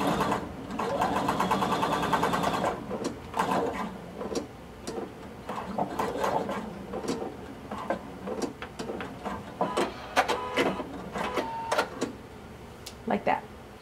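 A sewing machine runs a steady burst of stitching for a few seconds, topstitching a pocket flap on a blazer, then gives way to a voice talking over scattered clicks and handling of the fabric.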